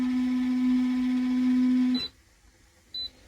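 A small washing machine in a camper van before its spin cycle: a steady electrical hum with a constant drone cuts off abruptly, then a single short electronic beep sounds after a brief quiet pause.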